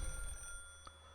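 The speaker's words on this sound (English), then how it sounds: "The phone in the hall was ringing." A hall telephone in a dormitory rings in the video game If My Heart Had Wings, a faint electronic bell tone sounding once over a low background hum.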